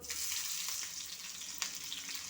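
Green chillies frying in hot coconut oil with popped mustard seeds, giving a soft, continuous crackling sizzle with a small pop near the end.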